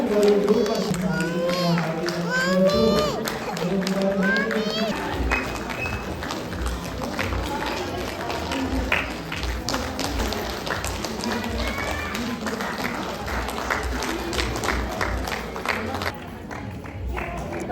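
An audience at a Lhosar celebration gathering of a Gurung community society in Pokhara breaks into sustained applause, dense crowd clapping continuing for many seconds after a voice speaks over the opening moments.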